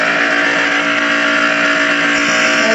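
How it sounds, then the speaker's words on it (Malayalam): A Nissan GT-R's exhaust held at a loud, steady high rev, a sustained buzzing engine roar with strong harmonic drone and no voices over it. "ഇതാ എക്സോസ്റ്റ് സൗണ്ട്."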